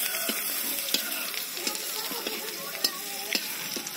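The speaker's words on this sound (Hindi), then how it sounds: "साग को फ्राई कर रहा है।" Bathua saag greens fry in a pan with a continuous sizzle, broken by sharp scrapes and clicks as a utensil stirs them at an irregular pace, close up and with nobody talking.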